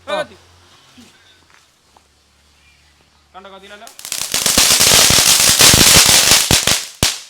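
After a few voices, a long string of festival firecrackers erupts in a loud, rapid crackling barrage that runs for several seconds and ends with one sharp bang.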